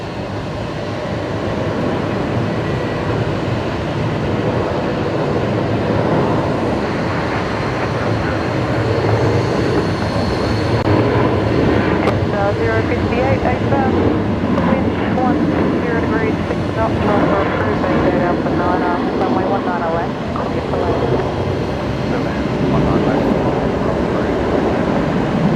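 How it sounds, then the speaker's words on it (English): Loud, continuous roar of a passenger jet, an A321 among the traffic at Brisbane Airport, filling the whole stretch with broadband engine noise and a faint voice underneath. "Aircraft is A321 and we'll give way to the aircraft"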